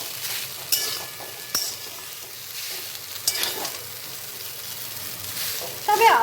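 Masala Maggi noodles with garam masala and meat masala are stirred in a pan over a low sizzle, with several distinct scraping knocks of the spoon against the pan.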